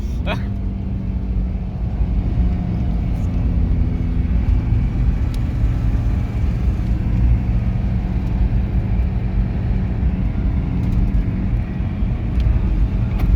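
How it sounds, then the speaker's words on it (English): Toyota Hilux driven hard into a corner after a dropped clutch: a loud, close, continuous engine and road rumble that holds steady throughout. "She's dropped the clutch and go for this corner"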